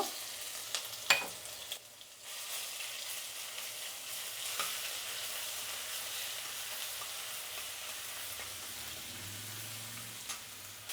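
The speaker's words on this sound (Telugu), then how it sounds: "తెల్లగడ్డ పేస్ట్ వేసినాక కూడా బాగా వేయించుకోవాలండి, కొంచెం రంగు వచ్చేలాగా." Garlic paste frying in a pan, making a soft, steady sizzle that continues evenly for several seconds with a couple of faint knocks early on, and no voices.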